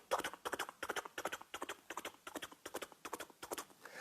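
A white horse's hooves clip-clop in a steady, rapid rhythm of paired strikes, continuing evenly and fairly quietly with no talk over them.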